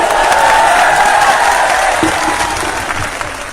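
A large rally crowd in an open ground claps steadily and loudly, with dense sustained applause that slowly tapers toward the end, no speech over it.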